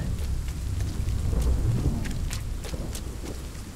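Torrential rain falls in the game Rime with a deep rolling thunder rumble underneath, steady hiss punctuated by sharp drop spatters, loud and enveloping throughout with no one speaking.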